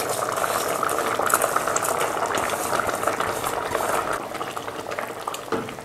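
A pot of degi-style beef korma bubbles vigorously on the stove, giving a dense, steady boiling and simmering texture with soft gurgles, close and continuous, with no talk.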